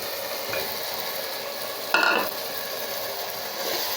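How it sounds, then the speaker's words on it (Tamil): Mushrooms tossed into a hot pan for a mushroom biryani base and sautéed, a continuous close sizzle with one louder burst of frying and stirring partway through. "இப்போ நம்ம காளானை போட்டுக்கலாங்க."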